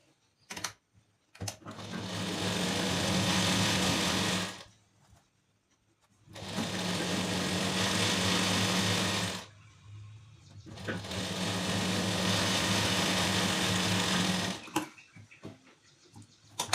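A sewing machine stitching a blouse runs in three long bursts of rapid, even whirring, each a few seconds long, separated by short quiet pauses, close and alone with no talk.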